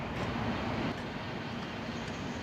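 Steady rumbling ride noise inside a Sanyo Shinkansen bullet train, a continuous broadband roar with a faint low hum, no voices.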